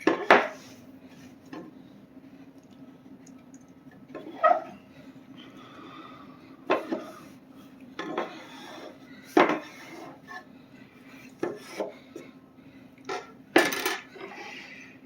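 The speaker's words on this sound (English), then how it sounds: "I will take my pastry blender, or not blender, scraper, and I will scrape everything in" Pie crust dough being gathered in a bowl with a pastry scraper, giving sporadic clinks and knocks against the bowl, separated by quiet pauses with a low steady hum underneath.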